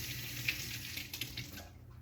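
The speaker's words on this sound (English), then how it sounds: "I'm going to wash my orange here." Tap water runs over an orange being washed in a kitchen sink, a soft steady hiss of flow with a couple of faint splashes, fading out at the end.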